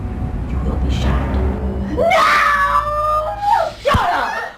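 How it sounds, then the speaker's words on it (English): A woman screams in a crime movie scene, a loud, sustained wailing cry that breaks and repeats, following a stretch of tense talking. "But why did this woman just scream?"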